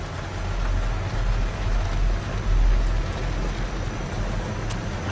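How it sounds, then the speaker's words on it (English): Steady rain falls in the video game Road 96, a dense, even hiss of drops with a low rumbling bed underneath, constant and fairly loud throughout with no voices. "It is raining."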